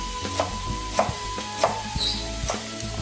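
A knife chops chive flowers into small dice on a cutting board for a stir-fry with minced pork, giving four or five crisp, separate close-up strikes at an uneven pace over a faint steady background hum.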